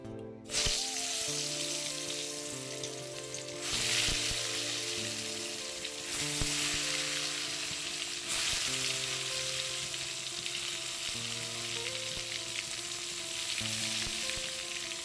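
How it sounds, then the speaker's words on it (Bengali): Eggplant slices coated in salt, turmeric and a little sugar fry in hot oil with a loud, steady crackling sizzle that carries through the whole stretch, while soft instrumental music plays underneath. "এখানে তেল গরম হচ্ছে আর আমি এখানে বেগুনে নুন হলুদ আর সামান্য চিনি মাখিয়ে নিয়েছি আমি এটা ভেজে নেবো এখন"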